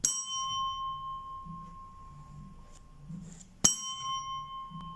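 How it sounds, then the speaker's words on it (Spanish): A Macar hand bell rings twice, each a bright metallic strike followed by a steady, sustained tone that lingers and fades, with a quiet gap between the two rings. "vamos a empezar con la campana marca Macar, la de la caja naranja. Entonces vamos a tocar."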